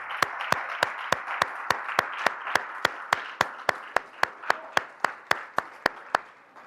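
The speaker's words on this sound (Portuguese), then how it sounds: "Vamos dar a Ele uma salva de palmas" Rhythmic clapping during a church service, a congregation beating hands together in steady unison, about three claps per second, crisp and loud over a soft background wash.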